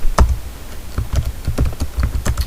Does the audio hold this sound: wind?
no